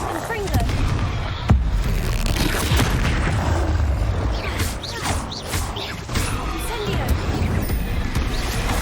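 Confringo blasting spell going off in Hogwarts Legacy, a string of booming blasts and mechanical creaks in a busy game mix, with a voice speaking over parts of it.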